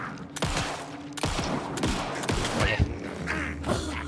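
Gunfire in the video game Alan Wake 2, several loud sharp shots spaced about a second apart over a dense, rumbling game soundscape, with a brief spoken word from a player.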